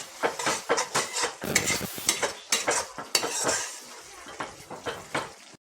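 Sugar stirred into a navratan vegetable curry in a pan: a spoon scrapes and clatters against the pan in repeated uneven strokes, with faint frying sizzle underneath, close and fairly loud with no talk.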